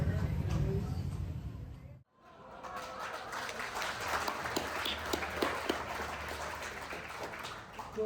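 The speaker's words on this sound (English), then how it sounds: "Let's give them a round of applause." Audience applause in a tribute event hall for two United Airlines pilots, a steady wash of clapping that swells after a brief pause and holds fairly loud to the end.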